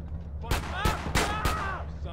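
Gunfire in GTA San Andreas during gang activity: four sharp, loud broadband shots spaced roughly a third of a second apart, over a low steady hum.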